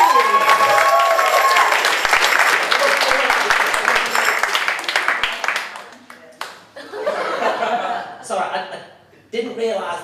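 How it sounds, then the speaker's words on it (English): A comedy show crowd gives loud, full applause for several seconds before it thins out; a performer then talks, broken by bursts of laughter and chuckles from the audience. "give yourselves an absolutely thunderous round of applause"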